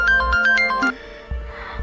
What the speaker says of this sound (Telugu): శరణ్కి నేను చేసిన ఫోన్ కాల్